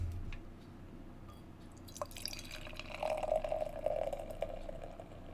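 Beer is poured slowly into a stemmed glass, a quiet trickle building into a steady stream and foaming fizz, faint and close, with no speech.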